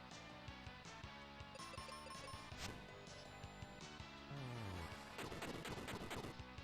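A full-power bomb spell from Final Fantasy Mystic Quest sounds as a quiet burst of crackling, clattering blasts near the end, following chiptune-style game tones, with no voices.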